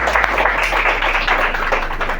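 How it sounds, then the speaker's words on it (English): Audience applause at a bilingual Urdu and English declamation contest, a dense steady wash of many hands clapping throughout, fairly loud and continuous with no pauses. "A big round of applause"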